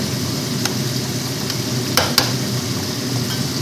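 Masala spices sizzle steadily in a hot pan while being stir-fried, a close, continuous frying hiss with a few soft scraping stirs.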